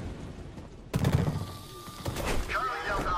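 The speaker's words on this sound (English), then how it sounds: "That's gunfire." Gunfire in the video game Deadlight, a sudden burst of shots breaking a near-silent stretch, followed by rumbling game noise and some tonal sound effects.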